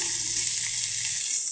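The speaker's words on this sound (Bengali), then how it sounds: "ভাজিটা ভালোভাবে ভাজতে হবে।" Ash gourd and coconut bhaji frying in a pan, a steady bright hiss of sizzling oil held close and constant for a brief moment with no talk.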